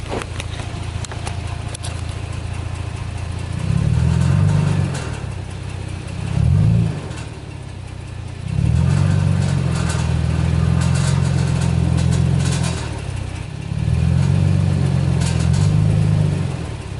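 A 2nd gen Toyota Tacoma sitting in drive with the brake held revs in repeated bursts, each rise in engine drone bringing a low exhaust rattle, loud and close, separated by quieter idle.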